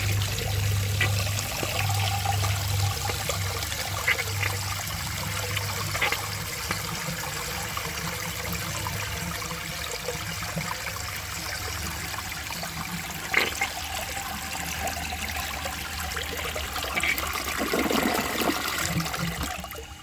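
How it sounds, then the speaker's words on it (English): A 1970 Montgomery Ward toilet flushes during a clogged siphon jet test, water rushing and trickling steadily in one long, continuous flush with a faint gurgle near the end. "It just had a really long flush, even though it used pretty much the same amount of water"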